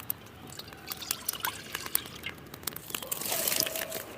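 A tumbler of water poured into a cooking pot while making tur dal sambar, heard as close, faint splashing and dripping with small clicks and crinkles, rising into a steadier pour near the end.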